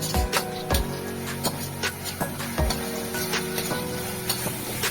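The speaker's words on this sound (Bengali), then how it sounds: "দিয়ে ভালো করে সমস্ত মশলাটাকে কষিয়ে নিতে হবে" Finely chopped dried red chillies and spices being fried in a pan for ghugni give a continuous busy sizzle, with soft thumps and stirring clatter at irregular intervals.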